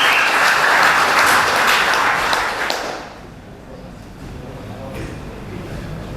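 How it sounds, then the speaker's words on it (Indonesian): Applause from a crowd at an Indonesian labor rally in Bekasi, dense clapping for about three seconds that then fades to a low murmur and scattered claps. "Tepuk tangan dulu."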